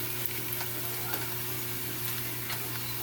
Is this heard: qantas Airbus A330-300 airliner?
no